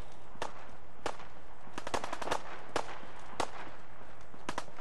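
Machine gun and rifle fire in a Fallout 4 firefight, a series of sharp separate cracks at irregular intervals, some in quick doubled bursts, fairly loud with a low steady ambient hum between shots.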